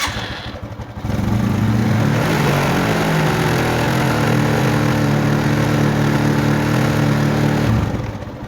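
A Honda Tiger Megapro motorcycle engine, fitted with an assembled regulator-rectifier, starts after a short pause and settles into a loud, steady close-up idle with a strong low thrum that runs for several seconds before easing off at the end.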